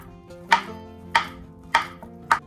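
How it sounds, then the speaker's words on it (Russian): A knife chops bananas on a cutting board, four evenly spaced crisp taps with quiet pauses between. "Нарезаем бананы на небольшие кусочки."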